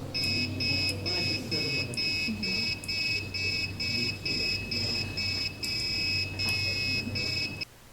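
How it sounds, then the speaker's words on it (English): An electronic buzzer from computer components beeps out a steady rhythmic melody of repeated high tones, loud and continuous, with a low hum underneath. "this is another one on buzzer that sings as well"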